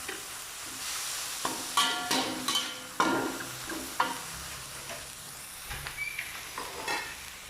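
Holy basil stir-fry (pad kaprao) with oyster sauce, light and sweet soy sauce and sugar is tossed in a hot pan. Close, irregular scrapes and clanks of stirring ride over a soft, continuous sizzle, with no voices.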